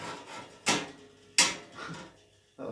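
A glass panel slides into the door of a budget stainless steel hot tent stove, giving two sharp scraping clacks followed by a softer rub and the start of another knock, close by and with no voice.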